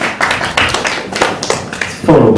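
A comedy show audience claps to vote on whether an image is a photo, giving scattered, uneven applause with some louder bursts and a swell of cheering near the end.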